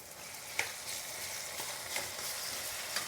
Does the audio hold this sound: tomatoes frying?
yes